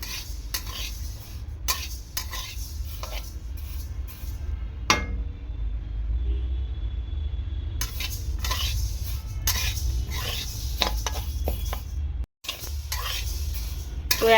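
Moong dal roasting dry in a pan is stirred briskly, giving loud continuous scraping and rattling strokes with a brief lull in the middle before the stirring resumes.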